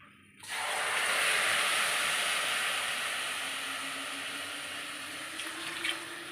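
Coconut milk pours in a steady splashing stream into a pot of rice and water for coconut rice, starting abruptly and running loud and continuous before tapering slightly toward the end.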